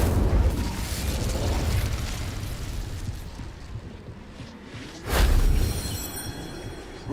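Incendio fire spell cast in a Harry Potter video game, a rumbling fiery blast sustained at the start that fades, then a second sharp whooshing burst about two thirds through, loud and with no talking.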